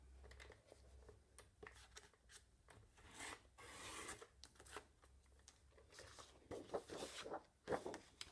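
Paper being sliced with an Insta'Enveloppe envelope trimmer, a series of short close rasping scrapes and rubs repeating irregularly, with a couple of sharper crisp strokes near the end, no voices.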